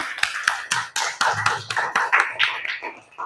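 A classroom of pupils clapping their hands in an Indonesian school lesson, a quick run of sharp claps that grows into a ragged burst, close and fairly loud, with no talk.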